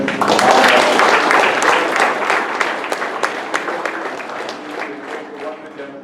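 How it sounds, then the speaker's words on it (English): A hall full of people applauds Hyundai dealership graduates at a graduation ceremony, dense loud clapping that starts strong and slowly thins out, with some voices mixed into the crowd noise. "So great round of applause to them."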